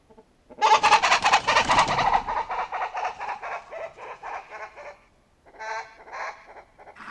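Chickens clucking at night on a mountain farm, a close burst of loud, agitated squawks and clucks that eases into quieter rhythmic clucking, breaks off briefly, then returns.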